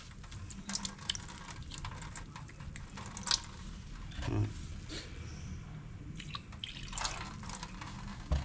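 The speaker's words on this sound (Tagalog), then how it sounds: "Hugasan natin ng may sabon." Disc brake parts, including the caliper piston, are washed with soap and water, giving close, quiet splashing, dripping and rubbing sounds in irregular bursts.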